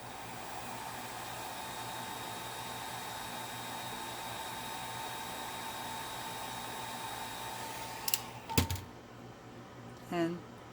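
A hair dryer drying an alcohol and acrylic ink flower painting runs as a steady, even whoosh for about eight seconds, then cuts off, followed by a few light clicks and knocks.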